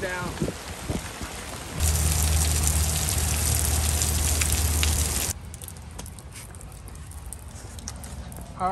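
Heavy rain drums steadily on a Reactive Outdoor 3s tent for several seconds, then drops to a lighter patter, with a voice briefly audible.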